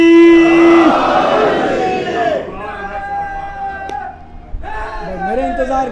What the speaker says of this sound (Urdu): مل کے نعرہ حیدری